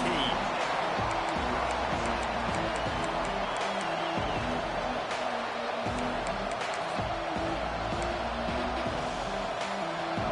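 A stadium crowd in a college football video game keeps up a continuous roar of cheering while a commentator talks over it.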